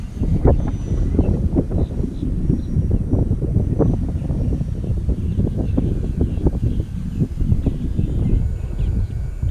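Strong west wind at a lake on a very windy day, a constant loud low rumble of gusts buffeting the microphone, with faint bird calls above it.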